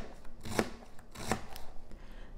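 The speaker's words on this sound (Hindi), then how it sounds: "इसको हम चॉप करके डालेंगे।" Onions being chopped for chicken masala: two distinct knife strikes on a board about a second apart, quiet and close, with faint background hiss.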